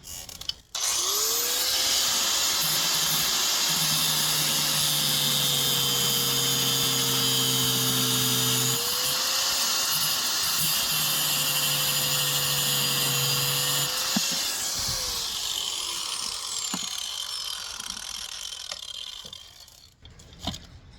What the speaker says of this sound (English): Now just cut the bolt down size.